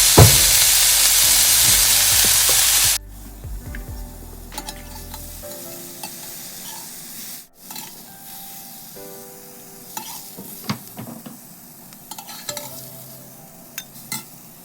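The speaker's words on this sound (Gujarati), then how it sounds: "હવે આને પણ આપણે ગ્રીલ થવા દઈશું." Vegetables seasoned with salt, pepper and red chili flakes sizzle and fry loudly on a grill for about three seconds, then the noise drops to quiet scattered clinks and light stirring.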